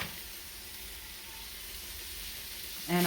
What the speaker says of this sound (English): At this stage I'm adding 500 grams of mince